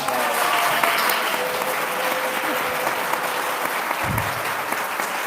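An audience at a comedy forum breaks into sustained applause, dense and even throughout, with a brief low thump near the end.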